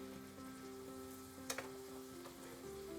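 Butter garlic mushrooms fry in a pan over a high flame, making a quiet, continuous sizzle with a couple of brief crackles partway through.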